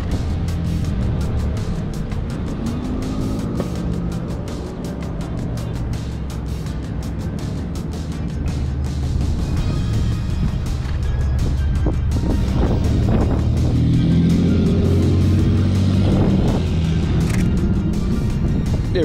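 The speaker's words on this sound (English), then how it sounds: "Cars go by." Cars pass along a downtown street in Mansfield, Ohio, a steady low traffic rumble with wind buffeting the microphone, swelling as a vehicle goes by near the end.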